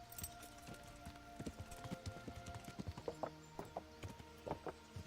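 Horse hooves clip-clopping in the medieval game Kingdom Come: Deliverance, a run of fairly quiet, evenly spaced hoof knocks over soft background ambience.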